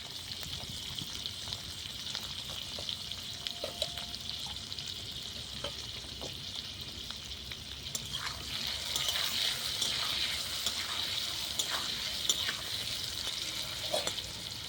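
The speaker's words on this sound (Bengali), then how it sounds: "আলুটা ঢাকা দিয়ে লাল করে ভেজে নেব।" Potatoes seasoned with salt and turmeric fry under a cover in a pan on a clay wood-fired stove, giving a steady, close sizzling hiss that grows fuller toward the end, with occasional clicks and scrapes and no talking.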